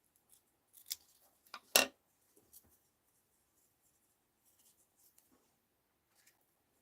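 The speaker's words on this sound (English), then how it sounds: "Let's cut the other one out." Scissors snip through layered fabric, a couple of crisp, close cuts with a few softer snips and rustles between them in an otherwise quiet room.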